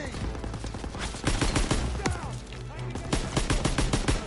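Dense machine gun and rifle fire in the World War II shooter Call of Duty: WWII, rapid overlapping bursts and sharp shots filling the scene, loud and continuous with a dip mid-way before more volleys.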